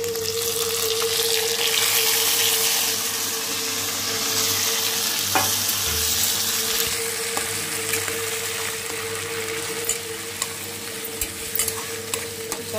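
Onions, green chillies, curry leaves and tomato pieces fry in a pan, a steady close sizzle with a constant hum underneath and occasional light clicks from stirring.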